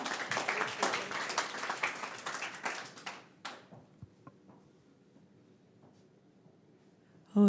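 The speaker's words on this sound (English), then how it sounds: "So a round of applause for Hannah Stacey from Ometria." Applause from an audience at a B2B marketing event, dense clapping for about three seconds that quickly dies away to a few scattered claps and near silence, with a brief bump of sound at the very end.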